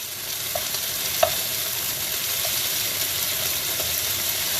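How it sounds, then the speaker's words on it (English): Beef sears in a frying pan with a steady, close, even sizzle and a single soft tap partway through. "So leave it alone and let it sear."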